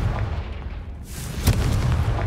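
A fiery blast from the Confringo spell in Hogwarts Legacy gives a deep rumbling boom with a sharp crack midway, loud and close, with a roaring tail.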